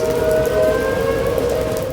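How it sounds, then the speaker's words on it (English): Steady wailing tornado sirens sound continuously across a city area, a droning tone over rushing background noise. "Tornado sirens sounding across the University City area to warn people about the danger."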